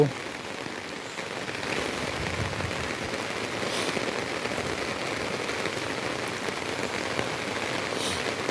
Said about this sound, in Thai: แต่ตอนนี้ฝนก็ยังไม่หยุดตกทีนะครับนะ